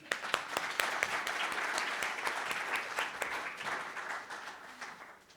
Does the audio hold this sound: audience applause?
yes